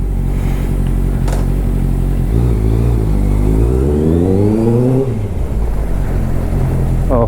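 Honda CBR650 motorcycle engine at a warm idle, then a rising rev that climbs and falls away before settling back to a steady rumble, loud and close with no talking.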